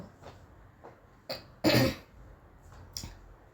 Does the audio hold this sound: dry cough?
yes